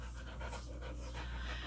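A dog pants steadily, quick rhythmic breaths close by and fairly quiet, with no talking.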